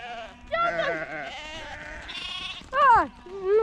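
Several sheep bleat close by in a rural Romanian setting, a wavering cry early on followed by two louder, sharply rising bleats near the end, with faint background noise between calls.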